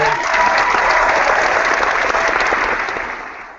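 Steady, dense applause from a crowd, loud and sustained, then fading out at the end.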